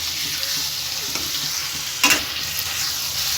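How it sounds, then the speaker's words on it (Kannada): Small cut pieces of paneer fry in oil with a steady sizzle. A brief stir or clatter comes through partway, and there is no talk. "ಸಣ್ಣ ಸಣ್ಣದಾಗಿ ಕಟ್ ಮಾಡಿಟ್ಕೊಂಡಿರೋ ಪನ್ನೀರ್ ಹಾಕೊಂಡು ಫ್ರೈ ಮಾಡ್ಕೊತಾ ಇದ್ದೀನಿ"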